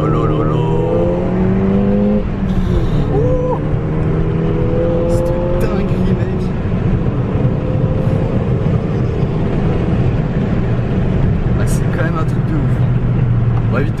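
A Ford Fiesta ST 185 hp engine accelerates from inside the car, its rising tones climbing steadily over heavy wind noise while people talk throughout.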